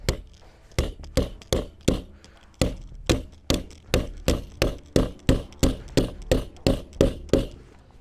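A Cyelee Bull Pro hammer is hit repeatedly against a hard surface in a torture test, producing sharp, loud impacts at a steady pace of about two per second, each with a clear ringing edge and no talking.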